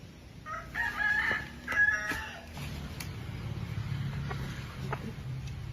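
A rooster crows loudly amid chickens clucking nearby, with a steady low murmur of farmyard noise continuing after the crowing fades.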